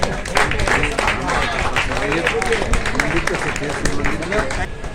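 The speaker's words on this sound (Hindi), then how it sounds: "लेकिन स्वागत में ताली कमी नहीं होनी चाहिए" Sustained applause from a ceremony audience welcoming guests at a community committee's honour event, dense steady clapping over a loud crowd with voices mixed into the babble throughout.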